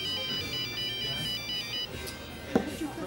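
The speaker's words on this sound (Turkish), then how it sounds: "Bu saattir benim cebim mi çalıyor?" A mobile phone's melodic ringtone repeats for a couple of seconds over a busy indoor room tone, then stops, followed by a short thump and faint murmuring.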